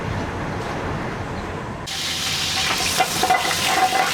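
Karahi frying in a train kitchen, a steady hiss of sizzling oil that turns brighter and louder partway through, with faint clinks of stirring.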